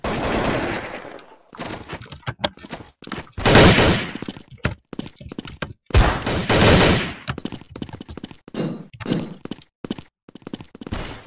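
Bursts of automatic weapon fire in the shooter Blood Strike, loud and close, come in rapid volleys of varying length separated by brief silences, with single sharp shots scattered in between.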